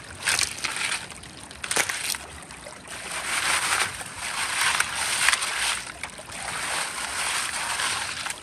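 Gravel and rocks being shaken and classified through a quarter-inch screen in creek water, a steady, loud rattling wash and sloshing that continues throughout with brief surges.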